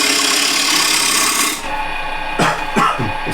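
A refiner tool on a lathe scrapes across a small piece of dry, dense wood with a continuous harsh rasp that stops abruptly, followed by a few short scraping strokes.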